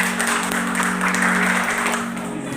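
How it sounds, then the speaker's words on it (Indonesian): Children in a classroom clap their hands together in a brief, steady round, moderately loud over a constant electrical hum. "Tepuk tangan."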